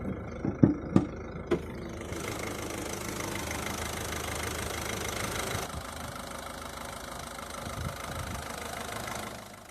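A 2016 Ford Grand C-Max's 1.6-liter single overhead cam, 8-valve turbo diesel inline four idles. A few sharp knocks come at the start, then a steady, fairly quiet rumble continues without speech.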